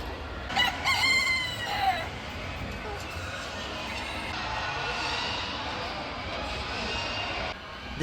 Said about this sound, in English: Seeing all these chickens, or just animals in general